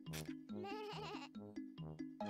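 Repeated sheep bleats from the Peppa Pig video game, several wavering animal calls in quick succession over a steady synthetic musical drone, close and clear.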